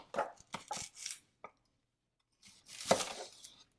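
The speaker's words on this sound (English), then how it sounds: "I have this half of onion here. I'm just gonna cut it in chunks." A knife cuts half an onion into chunks on a board: a few sharp cuts, a quick cluster of chops, a pause, then a longer burst of cutting.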